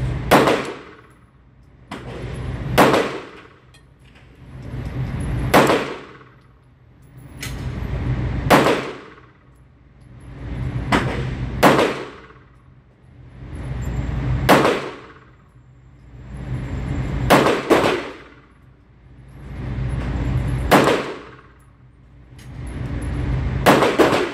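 A SAR P8S ported stainless steel pistol firing at a range, sharp loud reports in a slow, evenly spaced series, each followed by a ringing decay.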